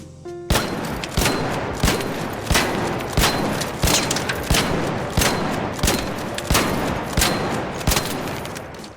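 Renegade rifle from the video game Arc Raiders firing about sixteen loud, evenly spaced shots in a steady semi-automatic rhythm, each crack followed by a short decaying tail, with no talking.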